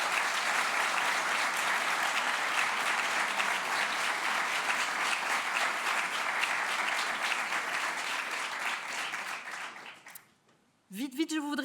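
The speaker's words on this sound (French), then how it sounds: "je vous propose à tous et toutes de les applaudir très" An audience at a graduation ceremony applauds in a dense, sustained wave of clapping that fades out near the end, followed by a brief voice.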